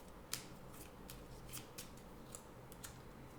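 Tarot cards shuffled and drawn: faint soft riffling and a few light card snaps and flicks, close and quiet, with no talk.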